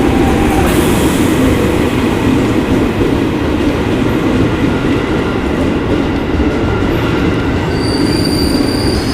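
A commuter train rumbles loudly and steadily close by at Grogol station in Jakarta, with a high metallic wheel squeal rising near the end.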